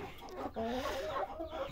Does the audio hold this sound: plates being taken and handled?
no